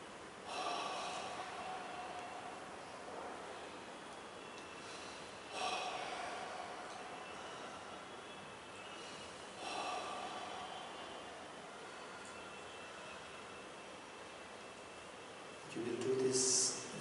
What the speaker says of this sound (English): Take three deep breaths